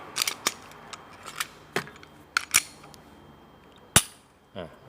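A Glock 19X pistol box is opened: sharp plastic latch snaps and clicks, a few light taps and rustles, and a final louder click, all close and isolated against a quiet room.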